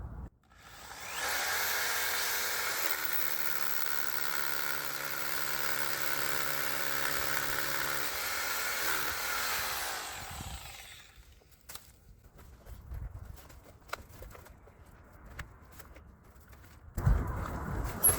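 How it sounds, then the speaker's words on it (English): A hammer drill fitted with a 1/2-inch masonry bit bores into concrete for a wedge anchor, one loud sustained grinding whine of about ten seconds that then stops, followed by scattered knocks and handling noises. "I've got a hammer drill with a 1/2-inch masonry bit"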